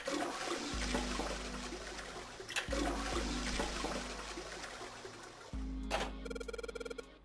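A toilet in the video game Zero Escape: 999 flushes loudly when its pull string is yanked: a rushing wash of water that drops off briefly and surges again, then ends in a quick rattling, ringing burst. No one speaks.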